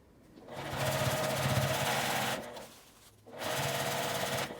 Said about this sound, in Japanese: 待ち針で留めて端ミシンをかけます。